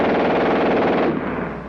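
Sustained burst of rapid automatic fire from a German machine gun, a dense unbroken rattle at very high cyclic rate, loud and close, trailing off into echo near the end with no talk.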